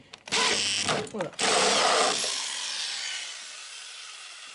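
Power drill boring holes to fit a bracket on a Citroën Traction 11 pedal assembly, one loud burst of drilling interrupted briefly and then resumed before trailing off into a fading whine, with no talking.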